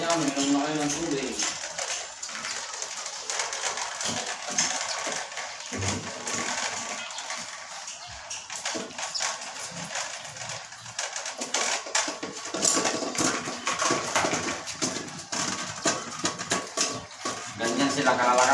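Belgian Malinois dogs eat from metal bowls nearby, a steady rapid clatter of crunching kibble and clinking dishes with dense, continuous clicks throughout.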